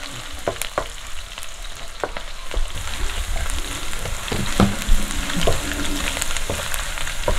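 Garlic, ginger and green chilies sauté in a hot pan with a steady loud sizzle, broken by scraping and clicking stirring strokes, with no talk.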